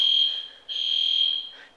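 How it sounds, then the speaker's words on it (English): Hotel room smoke alarm shrieks in a loud, piercing high-pitched tone, cutting out briefly and starting again, steady and close, with no voices. "The fire's going. The fire alarm's going, but it's just smoke"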